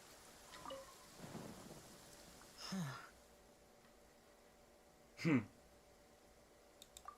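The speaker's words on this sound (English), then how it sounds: "Taking shelter and listening to the rain cleanse the earth makes me feel safe." Rain falling in the video game Genshin Impact during a storm, with a low steady patter beneath two loud rumbling thunder bursts and faint clicks near the end.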